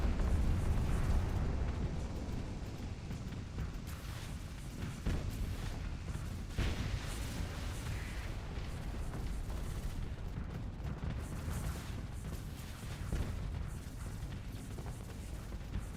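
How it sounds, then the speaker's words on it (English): Nuclear railguns firing in the space combat game Starsector, a continuous barrage of heavy booming blasts and explosions with rolling low rumble, loud and dense for the whole stretch. "Nuclear railguns are quite impressive, I have to say."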